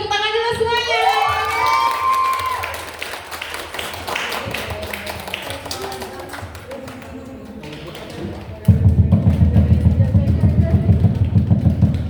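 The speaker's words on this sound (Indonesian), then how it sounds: "beri tepuk tangan dulu semuanya" An audience at a student association's handover ceremony claps and cheers, with scattered claps and crowd voices after a speaker, swelling into a louder, steadier roar of noise toward the end.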